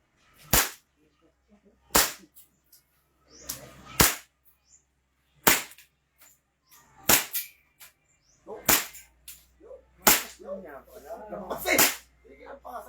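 2011 Trex Hi-Capa airsoft pistol firing about eight sharp, snappy shots at irregular intervals, close and loud, with people talking between shots.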